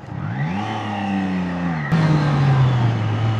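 A Triumph Daytona 660 sport motorcycle with stock exhaust revs up loudly, its pitch climbing and then holding as a steady, close roar.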